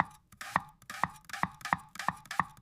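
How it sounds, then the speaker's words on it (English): A sharp knife chopping onions and garlic on a cutting board, about eight crisp, evenly spaced strokes in a steady rhythm, close and clear with no talk. "I am chopping the onions."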